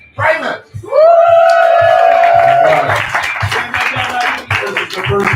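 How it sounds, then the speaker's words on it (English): A studio audience at a live variety show applauds and cheers for the host, with loud sustained clapping, a few whoops and a rising vocal wail over dense crowd noise. "This is the first week I haven't had to start my own applause."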